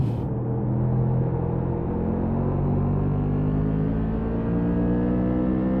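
Racing car engine in a sim racing league race, driven hard with tires near their limit: a steady, close droning rev that climbs gradually in pitch as it accelerates, alone without talk.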